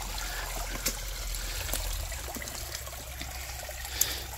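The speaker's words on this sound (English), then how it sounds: "there's a little waterfall" A small waterfall trickles and splashes steadily in a Florida creek, a soft continuous wash of water with occasional brief drips standing out.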